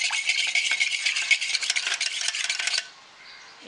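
Four egg yolks are whisked briskly into white sponge cake batter in a bowl: a fast, bright, continuous rattle of the whisk, close and loud, that stops abruptly near the end.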